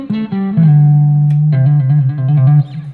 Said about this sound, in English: I like to add a little distortion on this thing.